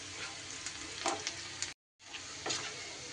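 Onions frying in a pan make a soft, steady sizzle with occasional stirring scrapes, quiet and close, interrupted by a brief moment of total silence before the sizzling resumes.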